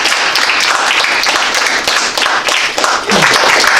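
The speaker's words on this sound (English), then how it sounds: "I'd ask you to join me in another round of applause" An audience at a high school gives another round of applause for two art award winners during a state senator's visit, loud continuous clapping that dips briefly before swelling again.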